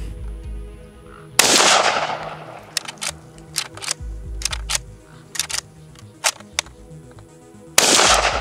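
An AK-pattern rifle in rough, poorly functioning condition fires two loud sharp shots several seconds apart, each with a long ringing decay, while quieter clicks and handling noises fill the gap between them.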